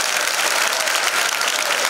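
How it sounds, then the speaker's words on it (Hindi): A crowd at a political gathering claps loudly and steadily, a dense even wash of applause with no voices heard. "तो जोरदार तालियों के साथ"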